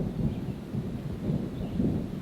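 Distant thunder rumbles low and steady beneath dark storm clouds, a continuous muffled roll with slight swells and no voices, ahead of heavy rain.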